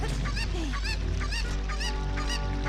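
A cuckoo chicken clucks in the video game The Legend of Zelda: Ocarina of Time, giving a run of loud, close, repeated honking squawks in an uneven rhythm, alone without talk.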